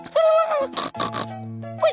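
A pig grunts and oinks in a children's fairy tale about winter animals, giving a couple of short, close, throaty calls with a brief gap between them.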